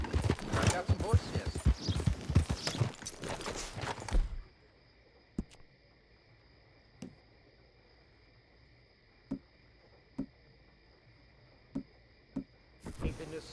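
Horse hooves clip-clop in Red Dead Redemption, with loud overlapping sounds at first, then a sparse series of single hoof-like knocks spaced a second or two apart over a quiet steady hum.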